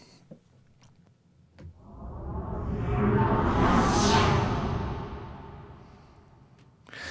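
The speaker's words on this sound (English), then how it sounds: "Let's try some low air jet fly." A low air jet fly-by whoosh from the Vir2 Phoenix library, like a spaceship passing, builds from faint to a loud roaring peak near the middle, then recedes and fades, one smooth sweep.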